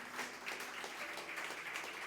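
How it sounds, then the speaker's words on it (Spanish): A church congregation claps for God during a bilingual Spanish-English service, a soft, steady patter of hands heard faint and distant throughout. "Let's give a hand clap to God."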